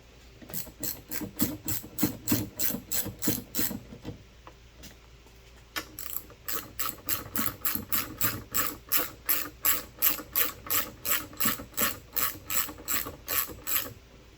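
Hand ratchet tightening 12 mm bolts on a Honda Elite 110 scooter's front turn signal assembly, a steady run of sharp clicking strokes that pauses briefly midway, then resumes in a fast, even rhythm, close and loud.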